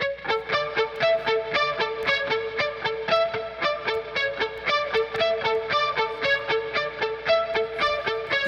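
Synthwave chorus riff guitar layer produced in Logic Pro, a fast, steady stream of bright plucked repeating notes played in an even, driving rhythm throughout, moderately loud with no voices.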